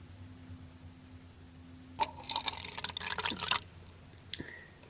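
Water poured onto pepper seedlings in a pot, a burst of splashing and trickling that lasts about a second and a half and then tapers off into a few scattered drips, fairly close and on its own.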